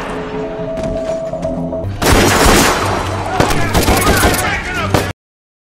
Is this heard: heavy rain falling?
no